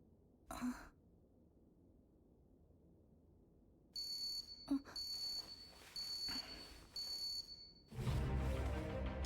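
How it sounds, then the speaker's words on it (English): An alarm beeps in short bursts, a high electronic tone repeating several times, fairly quiet, followed by a louder noisy stretch at the end. "That's your alarm?"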